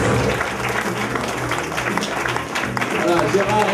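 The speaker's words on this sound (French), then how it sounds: "nous allons accueillir sous un tonnerre d'applaudissements" Audience applause at an evening gala in Château-Chalon, steady dense clapping throughout as a couple is welcomed, with a host's voice and music audible underneath.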